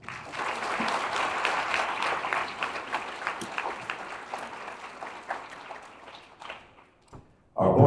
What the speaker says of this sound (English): I think that deserves one more round of applause.